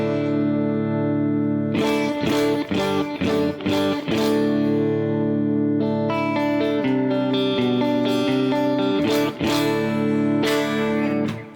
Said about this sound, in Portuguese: esse é o som da guitarra limpa